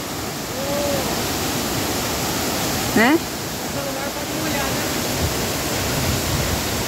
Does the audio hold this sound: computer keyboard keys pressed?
no